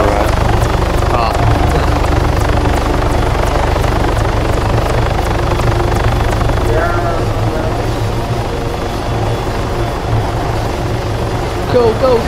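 A helicopter in the military video game Arma 3 drones continuously with a steady rotor throb and engine hum, loud and close for the whole stretch, while players talk over it.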